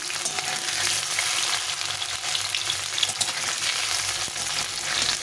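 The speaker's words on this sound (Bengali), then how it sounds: "হালকা একটু লাল লাল করে ভেজে নিতে হবে" Paneer frying lightly in oil, a dense continuous sizzle with faint stirring scrapes, close and steady throughout.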